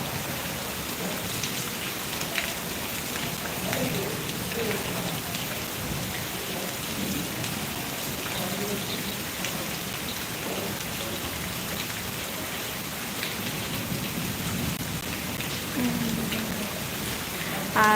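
Heavy rain pours steadily in Mirpur, Dhaka, a dense unbroken hiss of drops on surfaces with low thunder rumbling beneath, constant and close throughout with no voices.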